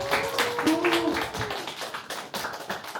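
Audience clapping at a teachers' XR metaverse hackathon ceremony as the judges are welcomed, a dense run of close claps lasting about three seconds with a faint tonal hum beneath.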